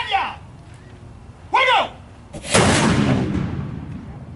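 A historic cannon packed with Spanish moss fires in a demonstration at the Fountain of Youth in St. Augustine, a single loud, close boom that rolls into a fading rumble after people briefly talk.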